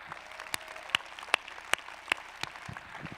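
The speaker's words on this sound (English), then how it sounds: "Come on, keep clapping." At a conference, a handful of distinct, sharp hand claps ring out at a loose, roughly half-second rhythm over a quiet room, fairly faint overall with a few louder peaks.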